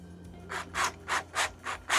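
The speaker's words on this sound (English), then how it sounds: "drill bit, going roughly halfway into the timber to allow the screw to embed in there." Drilling into timber with an 8mm drill bit, heard as six rhythmic bursts of scraping, rasping noise in quick succession, fairly close and steady, with no voices present.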